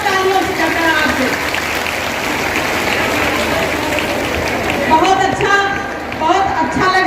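Women applauding at a Raksha Bandhan celebration held by an MLA in Bhind, a large crowd of sisters clapping in a steady continuous wash, with a voice speaking over it toward the end.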